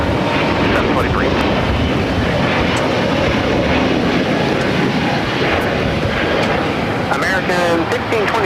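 Airplane engines roar steadily at Los Angeles LAX airport, a loud, continuous broadband rumble near the listener throughout.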